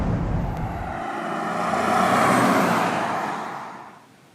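Volkswagen Touareg R plug-in hybrid cruising on a motorway, heard from inside as a steady broad road and wind roar that swells gently and then fades toward the end, with no talking.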